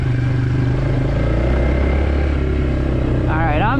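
A Suzuki Ozark ATV with a small air-cooled engine, being ridden in second gear after sitting unused for years, drones loudly and steadily up close throughout.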